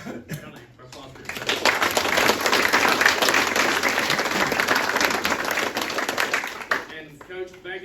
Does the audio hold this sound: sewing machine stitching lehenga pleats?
no